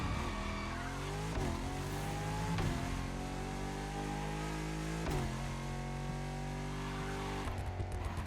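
A Bugatti races in The Crew Motorfest with a loud, continuous engine roar. The pitch climbs through the gears and drops sharply at each shift, with brief tire squeals over the sustained drive.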